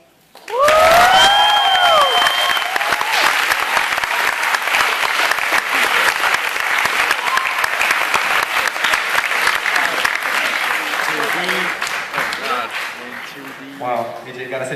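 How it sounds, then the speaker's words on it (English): Loud audience applause and cheering erupt after a speech at a stage event, sustained dense clapping with whoops for about twelve seconds before fading, with a voice speaking briefly near the end. "Give her another round of applause, guys"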